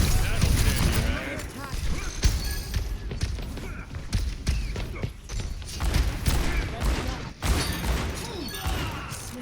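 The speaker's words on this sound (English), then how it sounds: "A lot of shots." Rapid gunfire from an Overwatch match, a steady barrage of shots and impacts running throughout, mixed with game effects and some voices underneath.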